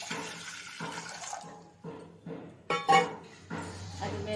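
Water poured into a pot while making rice chocolate mousse at home: a few short splashing, rushing bursts, close and moderately loud, separated by brief pauses.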